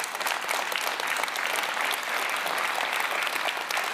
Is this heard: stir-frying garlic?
no